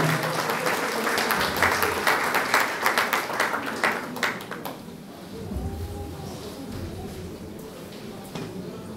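An audience at a Christmas show in Dărmănești applauds a teacher with brisk, close clapping that swells and then fades out after about five seconds, leaving a murmuring room with voices.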